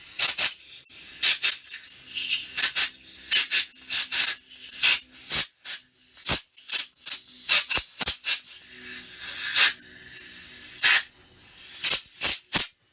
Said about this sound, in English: so every single hole in the carb has to be blasted.